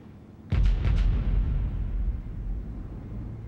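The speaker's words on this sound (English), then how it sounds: "As Discovery nears final approach, it announces its presence with two sonic booms." Space Shuttle Discovery on final approach to landing produces two sonic booms, heavy thumping blasts arriving close together and followed by a long, rumbling low-frequency roll that fades slowly in open air.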